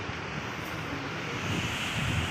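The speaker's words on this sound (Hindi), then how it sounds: "बारिश हो रही है बहुत बढ़िया, मौसम ठंडा हो गया एकदम से" Steady rain falls outdoors in a Uttarakhand village during cool weather, a dense continuous hiss close to the microphone with no distinct pauses and no voices.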